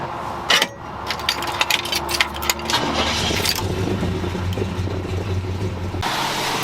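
A GMC custom camper engine running rich, idling at a car wash with a steady mid-low rumble after a few sharp clanks and knocks, continuing evenly and fairly close.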